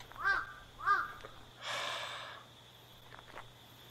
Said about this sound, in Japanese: こんな夜中にカラス、